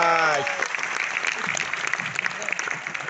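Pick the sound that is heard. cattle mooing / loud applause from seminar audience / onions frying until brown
loud applause from seminar audience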